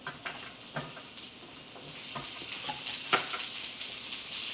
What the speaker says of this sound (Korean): 그리고 올리브오일 두르고 양파와 파프리카를 구워줄게요.